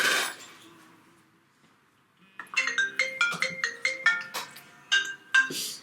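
A telephone ringtone plays a bright, bouncy melody of repeated electronic tones in several quick phrases, loud and close, during a makeup challenge at home.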